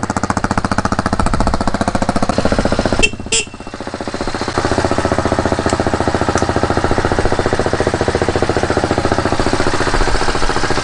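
A fuel-injected 2019 RPS Hawk DLX 250 motorcycle engine idles while warming up, a loud, steady, rapid chugging close by with a brief dip partway through, running on with no talk.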